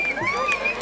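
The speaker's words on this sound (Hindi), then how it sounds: "तालियां हो जाएं इनके लिए।" Crowd at a college freshers' party in a government PG college hall, clapping and cheering with sharp whistles rising and falling over a dense, steady roar.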